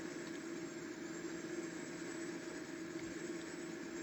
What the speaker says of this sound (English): This tractor's got plenty of hours on it.